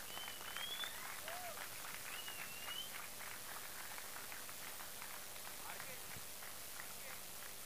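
Faint, steady applause from an audience at a cricket league prize distribution ceremony, a continuous patter of clapping heard from a distance under background noise, with a few whistles early on.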